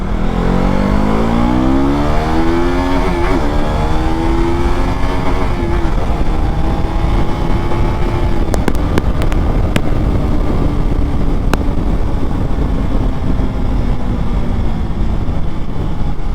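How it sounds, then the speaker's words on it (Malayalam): A KTM RC 200 BS4 motorcycle accelerates hard on an open road, its engine note climbing loud and close, then holding a steady high-revving drone with no talking. "ഇതാണ് ഈ വണ്ടിയുടെ ആക്സലേഷൻ"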